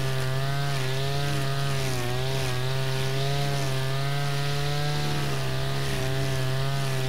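A brush cutter trims grass close by, fitted with a homemade debris guard of dangling strips made from 100-yen shop material. Its engine gives a steady, loud, unbroken drone with a slight waver in pitch, and no one speaks.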